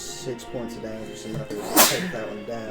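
A single short, sharp sneeze bursts out near the middle of a tabletop role-playing game session, loud and close, while players keep talking around it.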